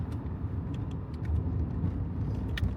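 Inside a classic Volkswagen GTI driving on a bumpy road, a steady engine and road rumble fills the cabin, with small knocks and rattles from the bumps and no one talking.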